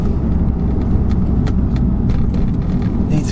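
An Audi S1 hatchback cruises along, its engine and road noise forming a steady loud rumble with a few brief clicks and knocks, no talking.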